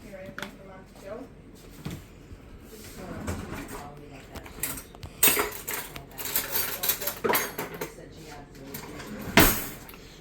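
Flour and paprika being mixed in a bowl, with irregular clinks and scrapes of a utensil against the dish that get louder and busier partway through, ending in one sharp knock; no talking.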